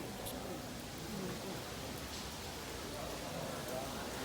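Rain falling at night at a temple in Taipei, a steady, even hiss of rainfall lasting throughout the short clip with faint crowd murmur underneath.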